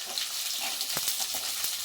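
Onion, tomato, beans and carrot sizzle loudly in a pan for veg pulao while a spoon stirs them, giving a close, hissing fry broken by a few quick scraping knocks.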